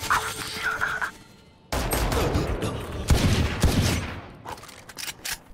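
Gunfire in the tactical shooter Valorant, with bursts of rapid shots and impacts filling most of the stretch after a quieter opening, loud and close, mixed with game sound effects.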